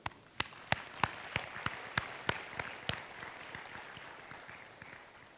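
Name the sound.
audience applause for the soldiers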